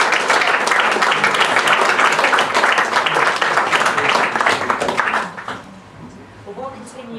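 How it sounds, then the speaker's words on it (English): Audience applause at a Labour Party conference fringe event on social housing, loud sustained clapping from a packed room that fades out near the end as a voice begins speaking. "Let's give you another round of applause."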